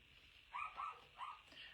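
A dog barks indoors in short, faint yips, about three brief bursts spaced across the moment, reacting to doors slamming outside.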